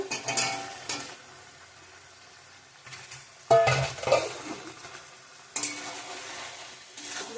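Potatoes are stirred and fried in a pan, in bursts of sizzling hiss with scraping and clinking of a spatula against the pan, separated by quieter gaps, close by with no speech.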